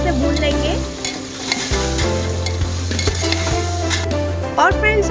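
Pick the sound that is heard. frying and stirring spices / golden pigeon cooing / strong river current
frying and stirring spices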